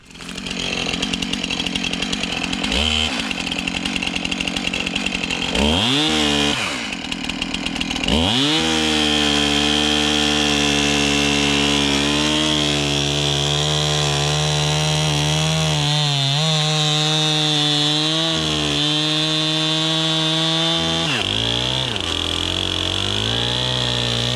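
Loud and close, a Stihl MS 291 chainsaw cuts through a log lying on the ground. The engine roars at high revs with brief dips, then settles into long, steady bites through the wood.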